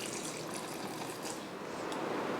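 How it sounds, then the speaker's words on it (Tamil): Water is poured into a mixer jar holding roasted gram, peanuts, coriander, curry leaves and salt for grinding chutney, a steady close pouring splash lasting a couple of seconds with no talking. "இப்போ இதை தண்ணி ஊற்றி அரைச்சிக்கலாம்."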